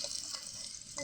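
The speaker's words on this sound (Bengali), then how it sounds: "আলু ভাজা হচ্ছে।" Potatoes frying in a pan, a steady bright sizzle with faint stirring scrapes, close and continuous without any talk.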